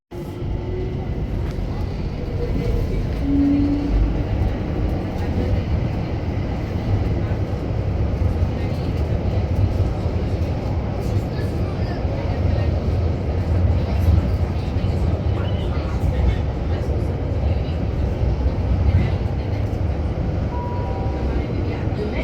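London Overground Windrush Line train running between stations near Rotherhithe, with a steady, continuous low rumble and rolling noise heard from inside the carriage, without a break.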